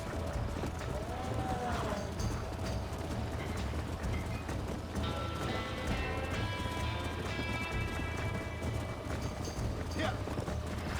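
A horse galloping in Red Dead Redemption, quick rhythmic hoofbeats running steadily under game music and ambience, with a faint whistle-like tone partway through.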